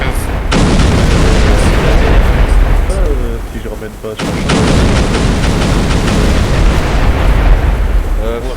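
Explosions and artillery fire in a Star Wars video game set in the Geonosis campaign form a loud, continuous roar of blasts. A brief dip comes midway, and a voice speaks briefly under the barrage.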